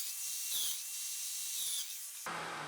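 Festool Domino joiner plunge-cutting a 10 mm mortise, a steady high-pitched motor whine with brief dips in pitch as the cutter plunges, ending in a rougher, louder burst of cutting noise.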